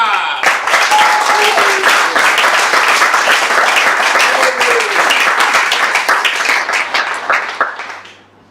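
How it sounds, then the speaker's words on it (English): A room full of people at an onsite auction claps loudly and densely for several seconds, a thick sustained applause that thins out and fades toward the end, with a few voices faintly mixed in. "I ask you to give a tremendous round of applause"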